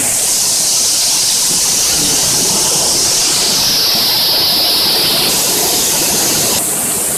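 Loud, steady roar of rushing flood water current from heavy rains in Infanta, Quezon, Philippines, a dense continuous wash of noise with no letup.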